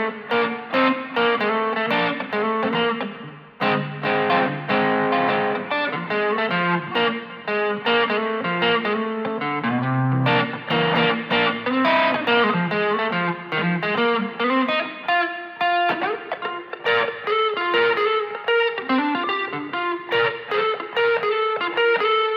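Electric guitar played through an overdrive pedal on a church pedalboard rig, ringing driven chords and single-note lines with sustained, gritty tone, loud and close, with short pauses between phrases.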